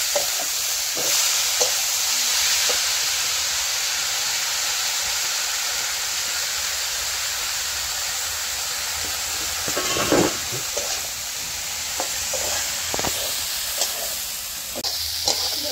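Greens stir-fried with garlic and onion give off a steady hissing sizzle, broken by scattered scrapes and clicks of a utensil moving through the pan, close and moderately loud throughout.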